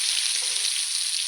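Bhutai sardines coated for rava fry sizzle in hot oil in a pan, giving a steady, bright crackling hiss that is close and continuous throughout.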